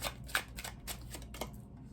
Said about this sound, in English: I'm just gonna kind of shuffle those back in.